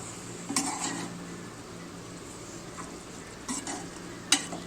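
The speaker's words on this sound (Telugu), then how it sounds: "ఇలా బాగా కలిసిపోయేలాగా తిప్పాలన్నమాట" A curry with masalas is stirred in a pot, with a low simmering hiss broken by a few sharp clinks of a utensil against metal.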